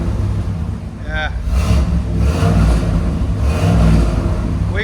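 A 1986 Pontiac Trans Am with a 5.7L V8 and a slightly rough idle is revved a few times, its exhaust rising in loud surges over a steady rumble while people talk nearby.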